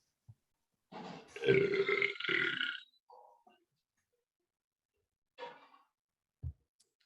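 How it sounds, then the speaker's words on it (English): A long, loud burp rumbles for over a second, followed by a few smaller gulping sounds and a short low grunt near the end. "It was a good burp."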